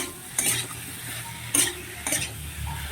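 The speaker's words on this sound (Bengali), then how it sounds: "এখানে মশলাটা কষানো হয়ে গেছে সবজির সাথে" A spatula scrapes through papaya and potato being stir-fried with spice masala in a hot pan, with three distinct close stirring strokes over a steady sizzle.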